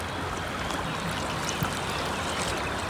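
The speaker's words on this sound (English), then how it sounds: "Can you listen to the gushing sounds of the waves of river Shishamara?" Steady rushing water of the Shishamara river flowing past a pebbly bank, a continuous broadband wash that fills the clip evenly with no voices.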